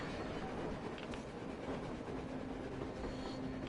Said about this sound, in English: They're running a train on the surface.